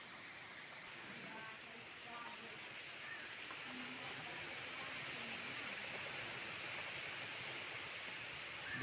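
Continuous rain during Cyclone Dana in Odisha, a soft, even hiss that rises slightly and stays steady, quiet and distant-sounding throughout.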